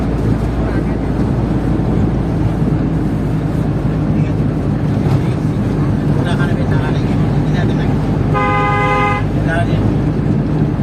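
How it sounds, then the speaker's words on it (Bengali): A vehicle drives along a road in Dimla, with a loud, steady engine and road rumble throughout and a short horn toot near the end. "এই যে মামা গাড়ি চালাইতেছে"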